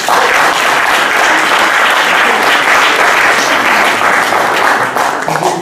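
An audience at an evening concert in a synagogue in Vincennes breaks into sustained applause, a dense, even wash of many hands clapping close by, steady throughout before easing slightly at the end.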